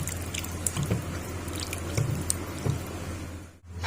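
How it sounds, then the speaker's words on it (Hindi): Water splashes and drips as raw mutton pieces soaked in vinegar are rinsed in a kitchen, with soft irregular drops and sloshes over a steady low hum, close and moderately quiet, without talking. "अब इस तरह से हम वॉश कर लेंगे, 3 से 4 मरतबा हम पानी निकाल लेंगे।"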